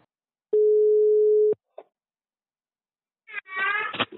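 A single steady telephone tone lasts about a second after numbers are dialed on a home phone, followed by a short click and then a brief burst of a voice.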